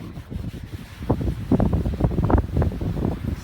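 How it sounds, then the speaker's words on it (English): Gusty afternoon wind buffets an outdoor microphone, producing low rumbling bursts that rise and fall in strength, loud and close with no other sound standing out. "Bit windy out this afternoon"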